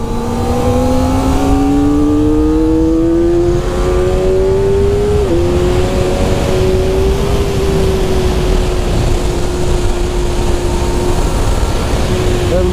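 A 2023 Kawasaki ZX400RR sport motorcycle on a track lap, heard from onboard with heavy wind rush: a high engine whine rising steadily through the revs, then holding a near-constant pitch, loud and continuous.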